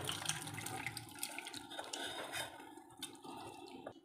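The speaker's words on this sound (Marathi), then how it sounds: "प्रथम आपण हे पाणी पूर्णपणे गाळून घ्यायचं आहे" Water poured through a kitchen strainer into a pot makes a faint, close trickling and splashing that runs for a few seconds.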